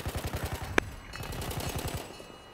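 Machine gun fire in Battlefield 1, a steady rhythmic stream of loud shots, broken by one sharp click and a brief pause before the rapid firing resumes.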